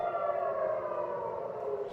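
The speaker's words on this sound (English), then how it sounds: "bomb sirens even sounding in Tel Aviv." Air raid sirens wail over Tel Aviv during rocket fire from Lebanon, a steady loud tone holding throughout without pause and no talking.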